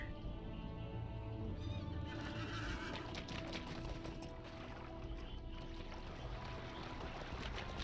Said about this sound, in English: Get back on my horse.